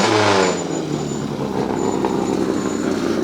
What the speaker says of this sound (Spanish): Un auténtico Renault 18 de los años 80